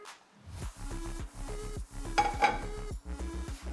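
A spatula stirs onions and peppers in a pan, with steady metallic scraping and clinking over a light sizzle, close and continuous.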